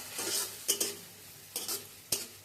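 A spice masala sautéing in a pan is stirred in quick bursts, sizzling scrapes repeating at uneven intervals over a low, steady frying hiss, close by.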